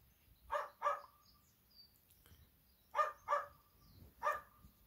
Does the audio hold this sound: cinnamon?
no